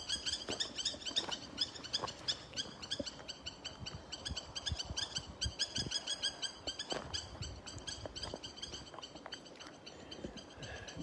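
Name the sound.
annoyed birds calling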